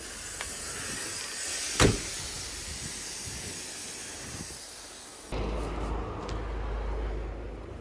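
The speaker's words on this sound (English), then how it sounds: "let me set the brakes on my tractor, or my trailer" A long steady hiss of air runs under a sharp pneumatic burst, then shifts to a lower rumbling hiss, like a tractor and 53-foot flatbed trailer's air brakes being set.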